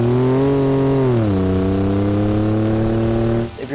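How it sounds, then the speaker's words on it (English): A 2015-2017 Ford F-150 with the 3.5L EcoBoost V6 and an MBRP XP Series 4-inch cat-back exhaust revs up, then settles to a deep, throaty idle drone that drops off abruptly at the end. "It is going to be deeper and throatier and just a bit louder than your stock exhaust"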